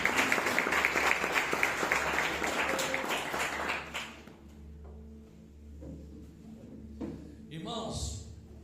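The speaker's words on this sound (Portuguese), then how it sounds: "Vamos aplaudir a palavra do Senhor." A church congregation applauds together, a dense wash of clapping that holds steady for about four seconds and then fades out, leaving quiet room sounds and a few faint knocks.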